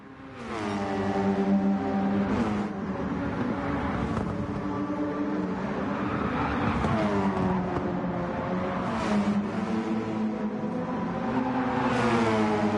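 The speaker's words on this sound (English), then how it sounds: "I can hear the cars but not your voice." Race cars in a touring car racing video game scream through the gears, with engine notes rising and falling as cars shift and pass, steady and fairly faint throughout with no talking.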